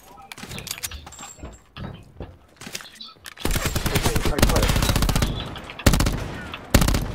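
Gunfire in Call of Duty Black Ops 4 Blackout, with scattered shots, then sustained rapid automatic bursts and several sharp louder cracks, close and loud over game sounds.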